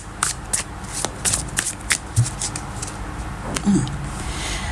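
Tarot cards being shuffled by hand for a monthly reading, a steady run of crisp riffling and flicking bursts at close range with no talking.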